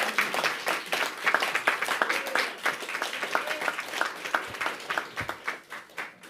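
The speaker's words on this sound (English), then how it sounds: "Let's give her a round of applause." An indoor audience at a legislation signing event claps for about six seconds, sustained and dense at first and then thinning into scattered claps as it fades out.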